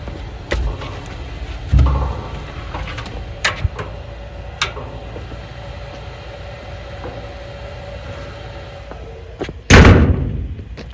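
Work at a Royall 6300 wood boiler: a few thuds and knocks as wood goes in, then a loud heavy slam as the metal door is shut near the end, close by with no talking.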